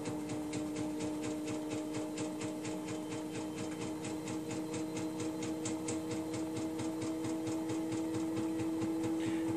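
An empty Samsung washing machine runs with an annoying fault noise, a steady drone under a fast, regular mechanical knocking that keeps an even pace and stays near and moderately quiet.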